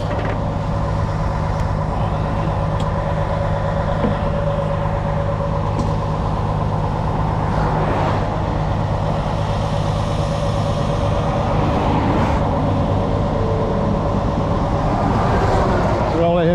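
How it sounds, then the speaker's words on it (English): A Freightliner truck engine idles steadily at close range, a loud continuous low rumble throughout, with occasional clanks and handling noises around it as work goes on nearby. "Keep it at idle for a while I'm putting the stuff away."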